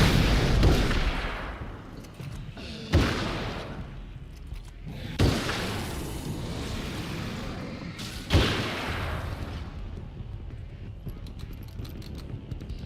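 A flashbang goes off in the Alan Wake American Nightmare video game, one of several loud, sharp bursts that repeat amid a dense, continuous game soundscape.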